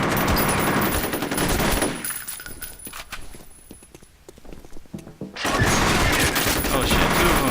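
Enemy gunfire in the shooter game F.E.A.R., with loud sustained automatic fire that drops away briefly mid-clip into quieter clatter before another heavy burst resumes.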